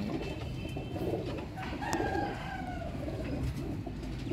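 Rare Zeera pigeons coo softly over a dense, steady background of rustling and loft noise, the calls faint and mostly buried, with no speech.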